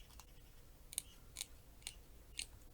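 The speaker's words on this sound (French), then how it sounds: "je vais prendre mon petit ciseau" Small scissors snip through paper while cutting out a Halloween spider shape, four crisp separate clicks spaced about half a second apart, close and quiet with no talking.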